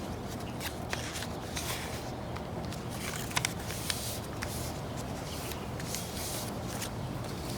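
Paper being folded and creased into an airplane wing, with crisp rustling and short crinkly swipes up close and no talk.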